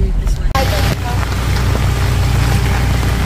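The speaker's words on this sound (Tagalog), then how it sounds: "Bati ang ulan." Heavy rain roars loudly and steadily on a vehicle during a road trip through Davao, Philippines, with people talking faintly beneath it.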